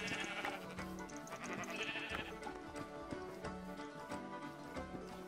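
Sheep bleat repeatedly in a video game, several wavering, nasal calls overlapping at moderate volume over quiet background game music.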